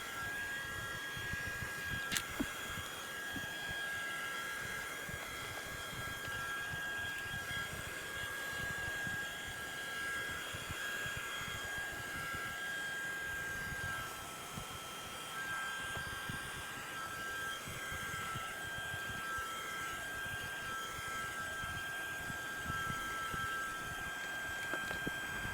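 Steady, loud hair dryer blowing on a handmade gothic craft piece, a continuous airy whoosh with a faint high whine running unbroken throughout, no talking.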